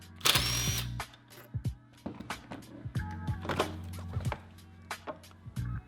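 A 10mm screw is removed from a Jeep Wrangler airbox with a power driver, giving a short whirring burst followed by faint clicks, taps and small plastic and metal handling sounds, close and quiet.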